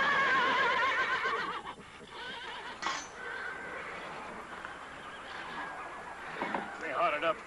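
Agitated horses whinny and neigh in wavering bursts, one near the start and another near the end, moderately close over a faint background.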